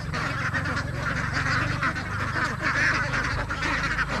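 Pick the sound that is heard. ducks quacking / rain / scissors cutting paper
ducks quacking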